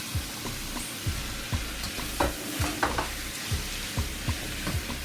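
Beef mince sizzles in a hot pan while a spoon stirs and scrapes it in regular strokes, a steady frying hiss under repeated close scraping clicks.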